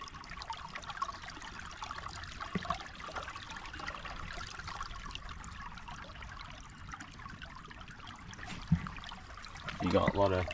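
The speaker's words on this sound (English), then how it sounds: "Dam is actually flowing a fair bit." Water flowing over a full farm dam spillway, a continuous soft trickling and rushing stream heard from nearby at low level, with a brief louder splash-like burst near the end.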